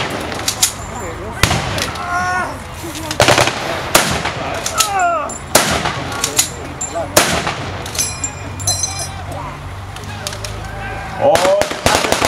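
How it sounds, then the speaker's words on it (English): Lee Enfield rifle shots and other gunfire crack out at a WWII battle reenactment during a 1940s weekend in Ramsbottom. Loud, irregular single reports ring out amid distant battle noise, and voices talk throughout. "Commando taking well-aimed shots with his Lee Enfield"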